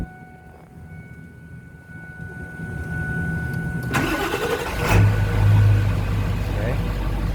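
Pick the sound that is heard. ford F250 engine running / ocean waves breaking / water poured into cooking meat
ford F250 engine running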